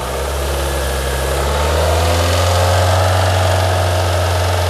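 A car engine being revved and held at higher RPM during a battery charging test, a loud steady hum that rises slightly in pitch and holds, close to the engine with no talking.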